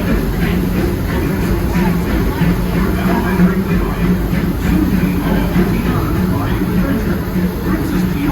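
The Disneyland Railroad's E.P. Ripley steam train rolls along its track in a loud, continuous rumble with steady wheel clatter, heard from on board.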